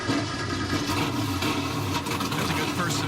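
Race car engines starting at a track event, a steady rumble of idling motors continuing underneath a public-address announcer speaking throughout.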